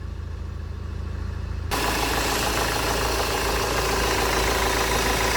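A car engine with a failing alternator close to catching fire idles with a steady low rumble and hum, growing noticeably louder and fuller partway through, then holding constant with no talking.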